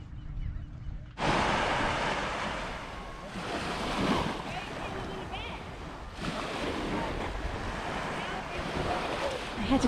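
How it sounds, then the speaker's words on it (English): Calm ocean waves wash onto a beach on a windless day, a steady rushing surf that swells and eases at moderate loudness, with no voices over it. "really just very calm waves"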